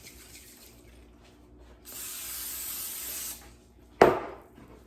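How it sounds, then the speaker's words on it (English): Pam cooking spray hisses onto a cookie sheet in one steady burst of about a second and a half in a quiet kitchen, followed by a sharp clack as the can or pan is set down. "give the cookie sheet a little spray of Pam"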